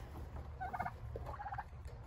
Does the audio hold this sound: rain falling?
no